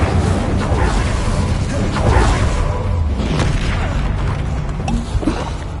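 Incendio fire spell cast in the Hogwarts Legacy video game, a loud, dense burst of fiery roaring and booming with whooshing swells that fill the whole stretch, close and continuous.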